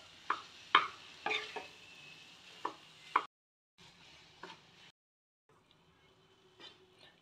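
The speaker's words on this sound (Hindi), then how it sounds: "पके हुए चावल को सब्जियों में अच्छे से मिला देंगे, इसका सारा मसाला चावल में आ जाए।" Cooked rice being tossed into vegetables in a pan for Schezwan fried rice, with a handful of scraping, knocking spoon strokes over a soft sizzle, close up, then gaps of near silence and a few quieter stirs.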